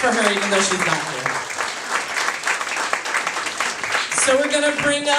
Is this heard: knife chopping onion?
no